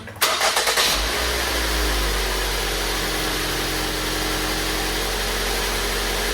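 A 2010 Ford Focus cranks briefly after a spark plug replacement, catches with a loud burst, then settles into a steady, close, even idle hum that continues to the end.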